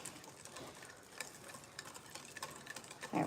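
Sesame chicken mixture being stirred in a pan, a soft scraping and shuffling texture with light clicks throughout, fairly faint and close, with no talking.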